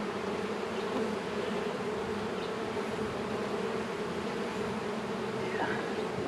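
Honey bees hum in a dense, steady drone while a beehive is opened for inspection. The swarm fills the air close by, with a few individual bees whirring past.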